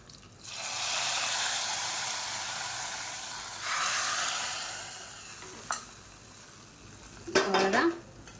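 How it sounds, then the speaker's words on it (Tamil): A hot tempering of garlic and curry leaves is poured into tomato chutney, giving a loud hissing sizzle that swells again briefly, followed by a few metallic clinks of a utensil against the pan. "பூண்டு நல்லா பொரிஞ்சிருச்சு இந்த தாளிப்பை இதில் கொட்டிடலாம்"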